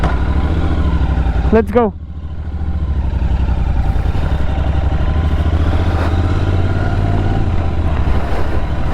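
A Royal Enfield Interceptor 650 motorcycle gives one sharp rev that rises and falls, then settles into a steady riding drone under heavy wind buffeting. A brief spoken phrase comes just before the rev.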